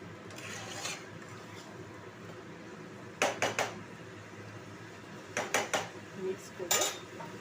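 Marinated chicken for curry being stirred in a metal pot, with clustered bursts of scraping and clinking utensil strokes against the pan, fairly close, between quieter gaps.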